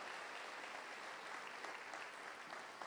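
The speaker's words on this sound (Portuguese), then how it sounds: "Aplauda o nome de Jesus aí, irmão." A church congregation applauds during a morning worship service, a faint, dense, even patter of clapping heard from a distance with no voices over it.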